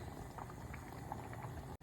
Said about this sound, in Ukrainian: І ще проварюємо хвилин 10-15